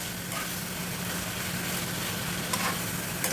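Chicken and garlic sauté in a hot pan with a steady, close sizzle and occasional stirring scrapes, with no voices over it.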